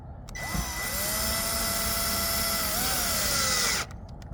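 A power drill whines steadily for about three seconds while driving screws to mount a Starlink Gen3 router hub in an RV, with a rising and falling pitch, close and loud, then cuts off abruptly.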